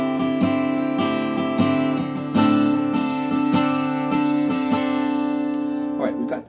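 An acoustic guitar plays the intro of a song, with a steady ringing chord pattern, regular strummed and plucked accents and sustained notes that fade at the end.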